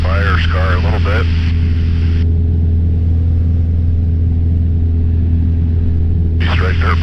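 Vehicle cruising off-road through fire-scarred backcountry near the Nevada–California border, a steady low engine rumble running throughout, with a person talking over it at the start and end.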